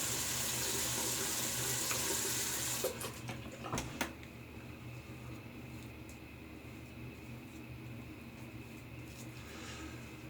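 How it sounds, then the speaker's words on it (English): Warm water from a bathroom tap runs steadily into a sink as a continuous broadband rush, with a few brief knocks and splashes near the middle before the flow settles to an even stream. "So let's get the face wet. Tap water's warm."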